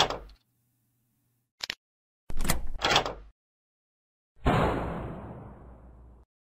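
A door in an escape room being unlocked with a metal key and opened: brief clicks and knocks of the key and latch, a couple of louder clunks, then a long sliding whoosh as the door swings open.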